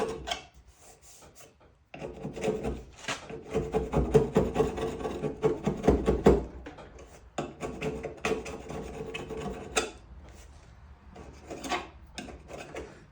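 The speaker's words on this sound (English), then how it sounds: "You scrape it, but still not that easy." Old paint is scraped off a square body truck cab in rough rasping strokes, some long and some short, close by with pauses between passes.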